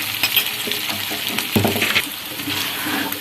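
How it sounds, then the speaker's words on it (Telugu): Mutton frying with spices in a pan over a medium flame, a continuous sizzle broken by scraping stir strokes and a louder clatter midway, close and with no talk. "మీడియం ఫ్లేమ్లో పెట్టుకొని వేపుకుందాం."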